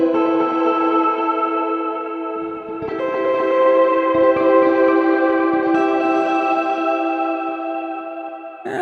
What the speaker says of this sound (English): So this is reverb how you would typically do it, with the original pitch version feeding the reverb.